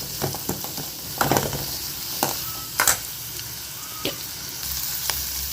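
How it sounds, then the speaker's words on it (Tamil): Green chillies sauté in oil in a pan with a soft, steady frying hiss, broken by several sharp spatula taps and stirring scrapes nearby, with no one talking. "பச்சை மிளகாய் நல்லா வதங்கிட்டுருக்கு."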